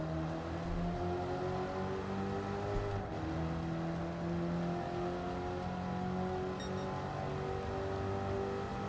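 Race car engines drone in a Gran Turismo endurance race against computer opponents. The steady, layered engine tones hold at moderate volume with slight pitch shifts throughout and no talking.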